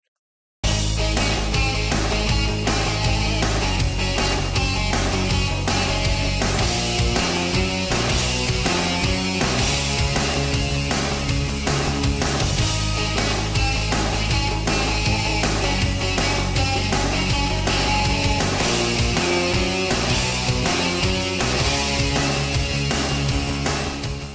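A thin-toned, melodic electric guitar riff from a glam metal song plays with a full band, dense and steady, at a constant loudness for the whole stretch, with no voices.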